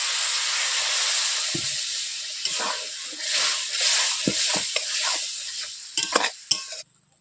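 Water poured into a pan of sizzling small fish curry with onions, a steady loud hiss and sizzle with scattered clinks of stirring, cutting off abruptly at the end.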